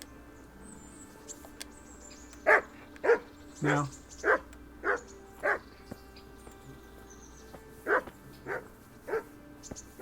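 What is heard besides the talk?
dog barking in a video game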